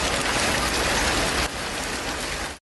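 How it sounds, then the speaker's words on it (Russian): September hail in Buryatia, Russia, hammering down in a dense, steady, loud patter of ice on surfaces, lasting throughout with a slight drop in intensity midway, no voices. "Сентябрьский град выпал в Бурятии."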